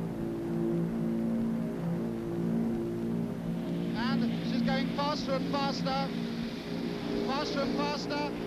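The Bristol Brabazon airliner accelerates down the runway for takeoff, its engines a steady droning roar with strong tonal hum, while a voice talks over it partway through.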